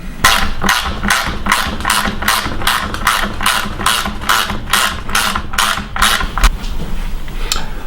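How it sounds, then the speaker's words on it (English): A ratchet tightens the lock nut and bolt on a billy cart axle, giving a loud, close, regular series of clicking strokes at about two per second throughout. "I've tightened the lock nut and the bolt up nice and tight on the back"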